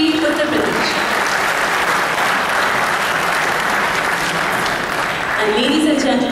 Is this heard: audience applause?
yes